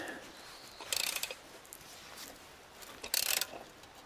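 Metal wrench working on a fitting of an old 1990 Iveco Daily 35-8 diesel with a Sofim engine, giving two short bursts of ratcheting clicks about two seconds apart over quiet background.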